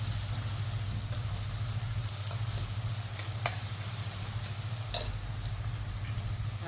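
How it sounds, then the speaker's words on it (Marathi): Onion sautéed in a pan for dal bati sizzles and frying hisses steadily throughout, with a couple of brief stirring scrapes and a low hum underneath; no one speaks. "दोन 3 मिनिटं असं परतून घ्यायचं।"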